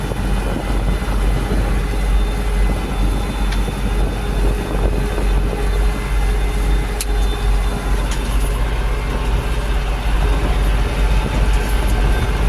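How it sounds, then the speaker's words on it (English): A TN55S tractor pulling an 8ft topper uphill gives a steady, heavy engine drone with constant low rumble and mechanical rattle, loud and unbroken. "Although this tractor doesn't seem to smoke much."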